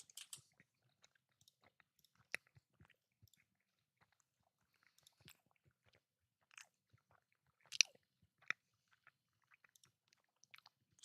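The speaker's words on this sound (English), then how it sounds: "Is my chewing loud?" Someone chews food close to the microphone, with scattered wet bites and sharp crunches at irregular intervals and quiet gaps between them.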